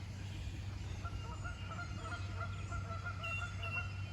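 Goose honks repeatedly at a spring fishing spot at sunrise in Northeast Ohio, a series of calls at mid distance over steady low background rumble and outdoor ambience.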